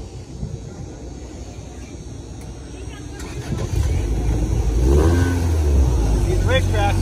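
A demolition derby car at Irwindale Speedway idles and then revs louder as it pulls up to a pit, with the engine close and rumbling and background noise and voices around it.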